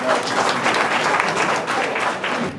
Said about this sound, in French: j'aimerais que ces applaudissements se renouvellent. Applaudissons nous-mêmes